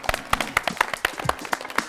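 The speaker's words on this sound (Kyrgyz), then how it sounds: "Кол чабуулар." An audience at a televised couples' game show claps in separate, fairly sharp beats at an uneven pace. The applause is sparse and moderately loud, with no talking.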